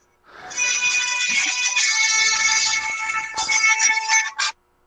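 A mobile phone rings with a Scottish-style melodic ringtone, loud and continuous for about four seconds before it cuts off abruptly; no one talks over it.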